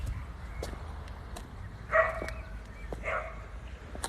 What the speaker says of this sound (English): These stupid dogs.